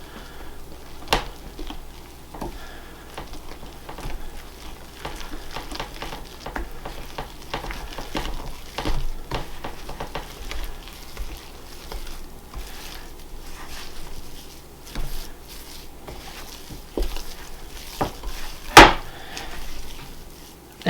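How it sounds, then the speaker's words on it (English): A spoon stirs a loose, shaggy whole wheat bread dough with yeast, oil and salt in a bowl, a steady close scraping and patting with occasional sharper knocks against the bowl, and no talking. "I'm going to add the yeast, the oil, and the salt. I'm going to stir this together."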